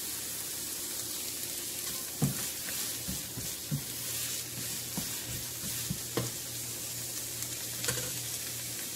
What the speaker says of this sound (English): So I'm mixing the carrots.